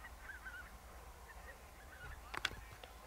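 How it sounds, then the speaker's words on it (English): Geese honk faintly in the distance near a coastal flying field, a few scattered calls over a low background hum, with a slightly louder cluster of honks near the end. "Watch out for the geese, eh?"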